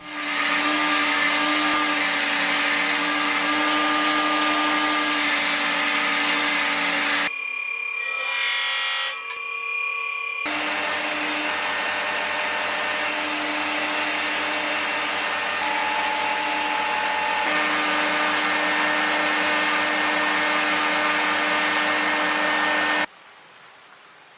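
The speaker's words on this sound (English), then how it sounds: "I'll finish shaping the blade, beginning by squaring everything off, then smoothing all the corners to make it comfortable in the hand." A bench grinder runs loud and steady while shaping and squaring a handmade knife blade, with a brief change in tone midway as the steel meets the wheel, then cuts off near the end.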